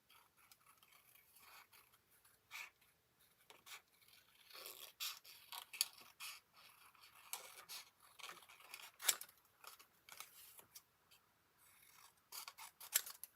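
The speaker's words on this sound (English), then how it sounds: "So I'm just going to do a little fussy cutting here." Scissors snipping paper in close, quick runs of small crisp cuts with brief pauses, fussy cutting shapes for a papercraft treat box, alone with no talk.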